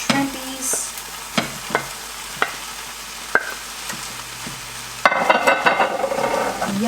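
Shrimp go into a hot pan with onions, tomatoes and cilantro, and a soft sizzle with a few stirring knocks gives way to a louder, busier frying hiss near the end. Nobody speaks.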